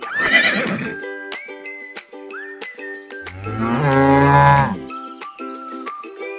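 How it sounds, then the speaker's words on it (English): On a farm, a cow lets out a long, deep, loud moo in the middle, surrounded by repeated horse whinnies and neighs before and after, all close and with no talking. "The mighty horses and lively cow family."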